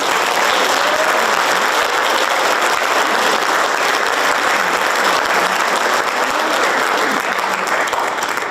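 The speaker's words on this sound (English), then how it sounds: "Please give them a round of applause." Dense, sustained applause fills a high school FFA awards ceremony, loud continuous clapping from a large crowd that holds steady throughout without letting up.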